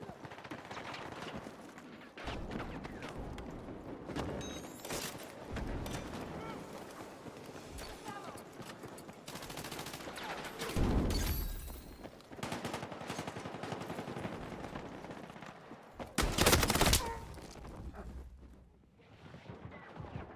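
Bursts of rapid automatic gunfire in a shooter video game, heard in scattered volleys over about twenty seconds, some loud and close, others lighter, with a player talking over parts of it.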